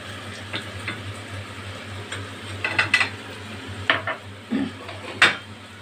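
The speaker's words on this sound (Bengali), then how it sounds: "তেলটা আমার গরম হয়ে এসছে। এবারে আমি এটাতে দিয়ে দেবো একটু ফোড়ন।" Spices such as cumin, coriander and fennel tempered in hot oil for a Bengali yogurt okra dish, faint crackling with a few sharp clinks and scrapes of a utensil against the pan, no talk.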